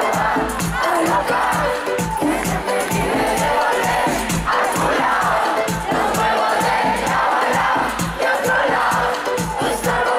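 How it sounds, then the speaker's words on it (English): A dense festival crowd at a Primavera Sound concert sings and shouts loudly and continuously, a roaring wall of voices that swamps the performer throughout. "It's so loud that you can barely hear her."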